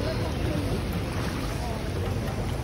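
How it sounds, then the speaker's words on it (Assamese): Steady wind blowing beside the Ganga at Har ki Pauri in Haridwar in the evening, a constant loud rush across the whole stretch with no pauses. "ধুনীয়া বতাহ মাৰি আছে"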